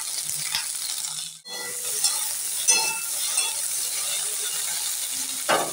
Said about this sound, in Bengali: গ্যাসের আগুনটা উল্টে পাল্টে ঢ্যাঁড়সটা ভেজে নিচ্ছি